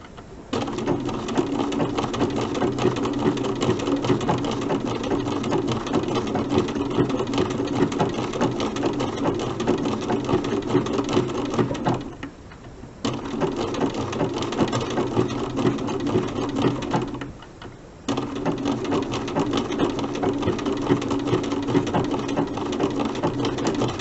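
A sewing machine stitches appliqué for a snowman quilt block, running in steady, close bursts around tight curves and stopping briefly twice for pivots before starting up again.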